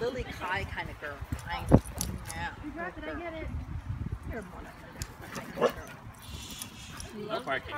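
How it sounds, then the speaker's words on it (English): A dog barks and yips a few times amid people talking over it, with whimpering sounds in between. "No barking, no barking."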